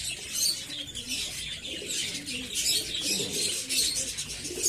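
Pigeons coo continuously in a low murmur in a loft during hand feeding, with busy chirps and occasional wing flutters from a crowded flock nearby.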